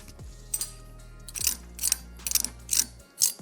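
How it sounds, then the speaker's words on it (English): Crispy breaded chicken fried steak gives a series of sharp, dry crunching bursts, about six of them, close and fairly quiet over a low steady hum. "Can you hear how crispy these are?"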